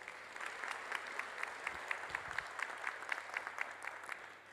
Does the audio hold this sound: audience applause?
yes